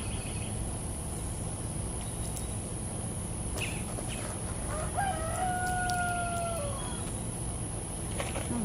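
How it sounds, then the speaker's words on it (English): A rooster crows once at middle distance on a rural homestead, a clear rising-and-falling call over steady background hum and faint insect noise. "These roosters."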